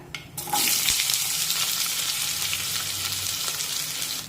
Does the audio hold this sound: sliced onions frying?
yes